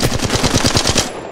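Rapid automatic gunfire in Apex Legends Mobile, a loud close burst of evenly spaced shots lasting about a second before cutting off.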